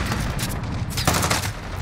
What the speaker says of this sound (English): I don't like hip-firing the Famas